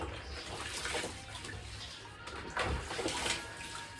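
Running water pours steadily while hair is rinsed clean of soap during a curly hair wash, a continuous close splashing wash with a few brief surges and no talk over it.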